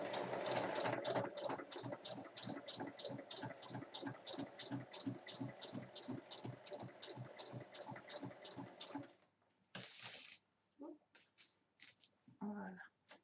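A home sewing machine runs steadily for about nine seconds, stitching fabric for a health-book cover with a quick, even needle rhythm, close and fairly loud. It then stops, leaving a few handling clicks and rustles.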